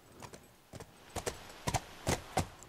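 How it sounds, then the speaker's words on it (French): Horse hooves clip-clop during a ride in The Last of Us, a handful of soft, uneven hoof strikes at close range, growing a little louder toward the end, with no talk over them. "Elle apprécie les balades à cheval."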